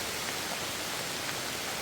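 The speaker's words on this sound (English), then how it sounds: "little pea size, maybe a little smaller than pea size hail" Pea-size or slightly smaller hail falls in a remote wilderness along the Appalachian Trail, making a dense, steady, loud hiss that is uniform from start to finish.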